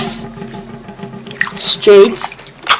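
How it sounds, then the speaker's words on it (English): Water is poured over plantains to wash them for village-style plantain fufu, giving short splashy drips and squishes while a person talks over it. "I'm pouring the water on it. So now I have to wash them"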